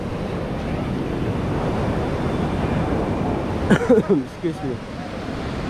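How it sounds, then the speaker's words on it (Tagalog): Steady, broad roar of strong ocean surf at Puka Beach, Boracay, rushing throughout on a windy day, with wind noise on the microphone and a brief spoken phrase near the end. "Kaso lakas ang alon"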